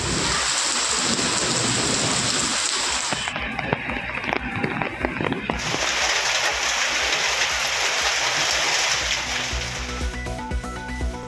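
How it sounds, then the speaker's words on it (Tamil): Heavy rain pours steadily and loudly in Ooty and Yercaud, a dense continuous roar with rumbling thunder underneath and a brief shift in texture partway through, with a voice audible over it. "உதகை ஏற்காட்டில் பெய்த கனமழையால் மக்கள் மகிழ்ச்சி."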